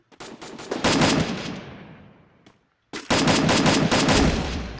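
Rapid automatic gunfire from the video game Free Fire, two loud bursts of sustained shots, the first fading out before a brief gap, then a second burst starting up again just as strongly.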